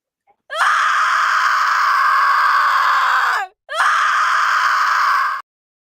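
Scream sound effect played on a live comedy show: a loud, sustained high-pitched shriek lasting about three seconds, a brief break, then a second shorter scream, with no talking over it.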